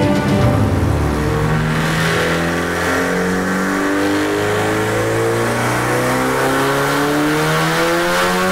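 A 2006 Subaru STI race car making about 800 wheel horsepower revs hard, loud and close, its engine note climbing steadily through several rising sweeps.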